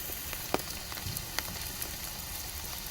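Rain falling across Chhattisgarh during a heavy spell: a dense, steady hiss of drops on surfaces with scattered sharper taps, fairly faint and without voices.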